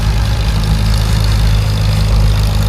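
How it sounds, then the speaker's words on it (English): A truck engine runs at a tractor pull show, a loud, steady low rumble that holds close and unbroken throughout with no voices over it. "I'm so used to the sound of that truck that it really doesn't seem that loud to me."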